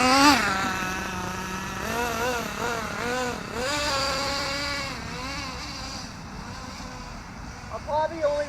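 A Kyosho nitro RC car engine on its first tank of break-in, run at low throttle, buzzes high and nasal with rising and falling pitch sweeps, close and steady throughout.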